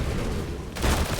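A flashbang grenade going off in Counter-Strike, a loud sharp burst that cuts through steady background gunfire and noise near the end, with no talking.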